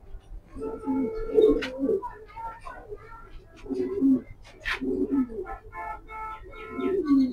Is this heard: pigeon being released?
yes